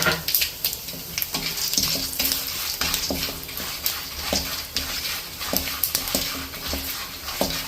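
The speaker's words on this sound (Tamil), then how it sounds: "இந்த கருவேப்பிலையை நல்லா பொரிய விட்டுட்டு வறுத்த நிலக்கடலை அதை போட்டுடலாம்" Curry leaves, fenugreek and dried red chilies fry in hot oil for temple-style pulikaichal, making a loud, constant crackling sizzle with frequent sharp pops and some stirring.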